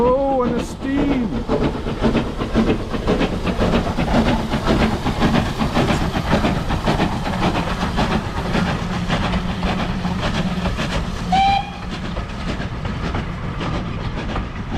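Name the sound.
steam hissing from an old steam train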